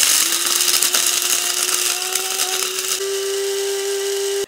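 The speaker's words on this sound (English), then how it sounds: "going to grind it until it's very fine powder" Electric grinder whirring as it grinds five spice powder, a loud steady high motor whine that climbs slightly in pitch, then cuts off abruptly at the end.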